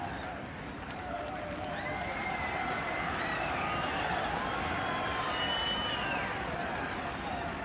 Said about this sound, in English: listening to the capacity crowd here, and it must be having an effect